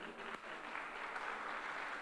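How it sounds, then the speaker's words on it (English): A cattle show crowd at a youth fair beef breeding show claps for Brangus exhibitors, a short, quiet and steady patter of applause from a distance. "we'll get one more round of applause for our Brangus exhibitors"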